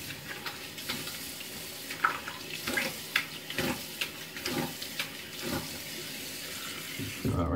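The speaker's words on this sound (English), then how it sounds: "I'll go ahead and wash the face and apply some of this face wash right here" Water splashes irregularly as a face is washed with Harry's face wash at a sink, close up. Wet slaps and trickles come in uneven bursts, with a louder rustle at the very end.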